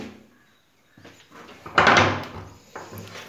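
A wooden cupboard door in a deluxe air-conditioned cottage at an activity camp is opened: a soft latch click, then a louder creaking swing and knock, close and without speech.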